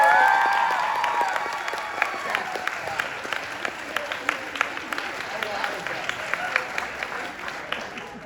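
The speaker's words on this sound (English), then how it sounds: "Big round of applause for her!" Applause and cheering from a live-show audience, dense clapping with whoops, sustained throughout with a few sharper claps standing out and some voices mixed in.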